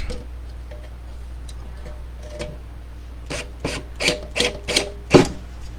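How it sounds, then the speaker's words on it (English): A hand tool deburrs the inside of a freshly drilled hole for a CB antenna mount with a short run of close scraping and clicking strokes, faint at first and growing louder, ending in one sharp scrape. "go on the inside and deburr it"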